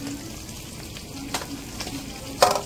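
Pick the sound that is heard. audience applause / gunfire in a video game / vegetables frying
vegetables frying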